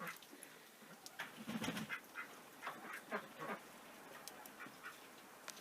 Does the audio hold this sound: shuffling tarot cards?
no